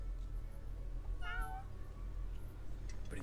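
A cartoon cat gives a single clear meow with a rising and falling pitch, standing out over a low steady background hum in an animated scene.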